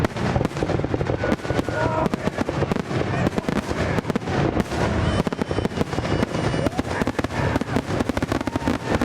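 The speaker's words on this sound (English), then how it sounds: "the highlight of the weekend was the fireworks display over the lake" Fireworks burst over Lake Orion in a rapid, continuous barrage of cracks and booms. Explosions overlap densely and stay loud for the whole stretch, with crackling tails between the bigger bangs.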